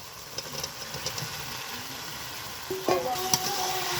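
Fried potatoes and jackfruit hit hot spiced oil in a pan, giving a faint sizzle with a few scrapes of stirring close by.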